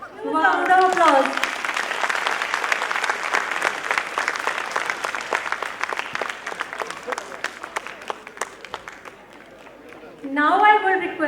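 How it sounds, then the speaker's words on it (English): Sustained audience applause at a preschool annual day stage show, dense and steady for about ten seconds, tapering slightly before a burst of louder cheering and voices near the end. "Round of applause."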